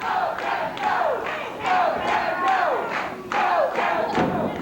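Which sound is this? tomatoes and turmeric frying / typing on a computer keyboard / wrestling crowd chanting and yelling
wrestling crowd chanting and yelling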